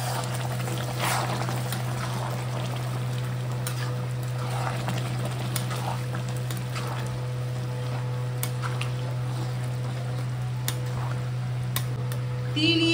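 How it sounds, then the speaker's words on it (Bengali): Water poured into measured rice in a cooking pot for Bengali Basanti pulao, a soft trickling pour over a steady kitchen hum with light clinks. "জল দিয়ে দিয়েছি আমি"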